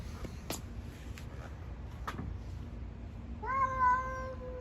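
A cat meows once from under a parked car, preceded by scattered outdoor clicks and knocks over a steady low background hum.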